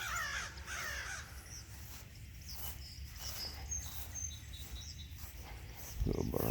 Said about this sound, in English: Little bird.